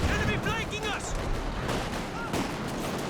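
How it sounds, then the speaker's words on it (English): Anti-tank guns fire in a Company of Heroes 2 battle, sharp gunshot cracks and booms amid busy combat noise, loud and close, with game effects and a voice talking over them. "Double anti-tank guns right next to each other. Firing off 2 shots, now retreating."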